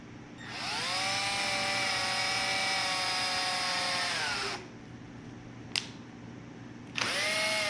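A power drill bores through a wood board while a craft show panel is built, whining steadily for several seconds, stopping, then a short blip and the drill starting again.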